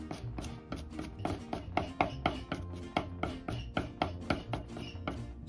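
Garlic and ginger being minced with a knife on a cutting board, a fast, even run of sharp chops close by, about three strikes per second with no pause and no voices.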